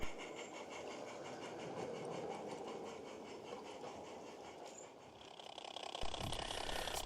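A mixed train on a light railway runs along the line, a soft steady rumble with faint rhythmic clicking that carries on from a distance, swelling slightly near the end.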